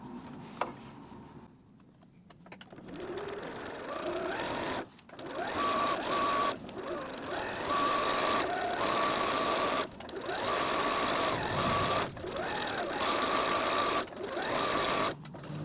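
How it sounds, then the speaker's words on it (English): A sewing machine stitching a beach bag seam with backstitching, the needle running in a rapid steady buzz, loud and close, broken by several short pauses and restarts. "I'm gonna start sewing here"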